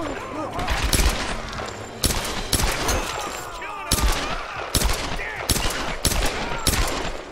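Enemy gunfire in a Tomb Raider game, with rapid bursts of shots and repeated loud volleys cracking in clusters, while a voice reacts excitedly beneath the shooting.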